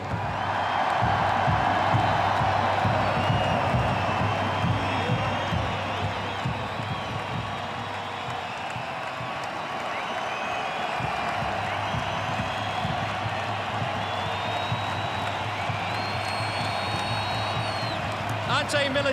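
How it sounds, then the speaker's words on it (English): A large stadium crowd at the 2013 A-League Grand Final, Wanderers versus Mariners, applauding and cheering steadily for the coaching staff, a dense sustained roar of clapping under a public-address announcer's voice. "Please keep your applause coming for the coach and his staff."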